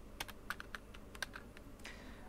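A comment is typed into PyCharm on a computer keyboard, quick irregular key clicks in short bursts, close and fairly quiet, with no voice.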